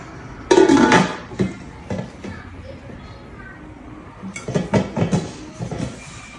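A metal grilling pan for chicken is unpacked and handled, giving two bursts of clattering, knocking metal close by with quieter rustling between them.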